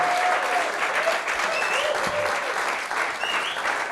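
Loud, continuous audience applause at a dub music conversation and masterclass event, steady clapping throughout with a few whistles and shouts rising above it.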